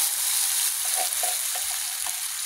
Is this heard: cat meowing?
no